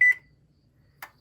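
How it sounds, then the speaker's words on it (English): An oven control panel beeps while being set to 350 degrees for baking brownies: one short electronic beep, a pause, then a second quicker blip, close and clear in a quiet kitchen. "the first thing you want to do is set your oven to"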